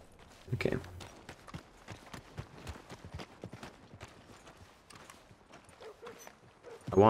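In Red Dead Redemption 2, a horse's hooves strike in an uneven walking rhythm, fairly faint and close, with louder vocal bursts near the start and end.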